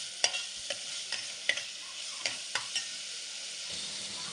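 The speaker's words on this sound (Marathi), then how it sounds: "थोडंसं हिरवं वाटण टाकून घ्यायचं आपल्याला चांगलं असं परतून घ्यायचं" Ginger-garlic and green masala paste sautéing in oil for a spicy crab curry, a steady high sizzle broken by a string of sharp stirring scrapes roughly every half second, close and fairly quiet.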